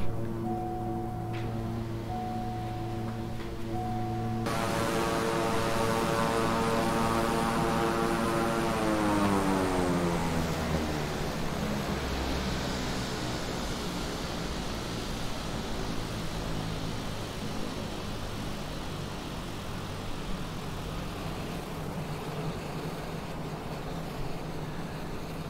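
Twin engines of a King Air 350i in Microsoft Flight Simulator spooling down at shutdown, a loud turbine and propeller drone whose tones slide lower and fade into a steady hiss, with no talk.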